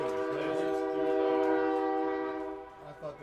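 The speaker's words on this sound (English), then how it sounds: "I hear that train coming. It's rolling around the bend." A passing train near a Yorkton baseball diamond sounds a long, steady horn that holds for a few seconds and then fades, with faint chatter beneath it.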